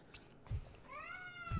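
Cats yowling outside a window, one drawn-out rising meow-like wail heard from a short distance and fairly faint, with a couple of low thumps nearby.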